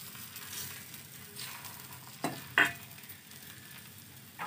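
Rice flour chilka batter, spread thin by hand, cooks on a hot griddle in a Jharkhand home kitchen, giving a steady soft sizzle with a couple of brief scraping clicks near the middle and no talk.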